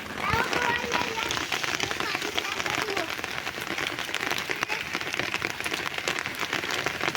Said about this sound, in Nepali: यस्तो मजाले पानी पर्दैछ